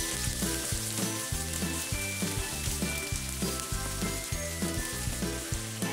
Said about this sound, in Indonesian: Panaskan sedikit minyak, lalu kita tumis bawang bombay dan bawang putih